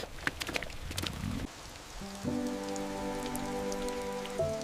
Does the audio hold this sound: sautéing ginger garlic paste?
no